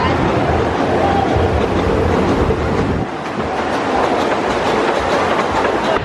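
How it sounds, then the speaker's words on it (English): A small amusement park train rolls past at Knoebels Amusement Resort, a steady loud rumble and clatter of wheels on track lasting throughout, with voices faintly underneath. "Little bitty train."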